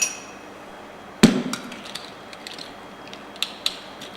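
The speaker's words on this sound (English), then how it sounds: "So a couple more cubes of ice." Ice cubes go into an old fashioned cocktail: one sharp clunk into the glass, followed by a scatter of small, close clinks and rattles as the cubes settle.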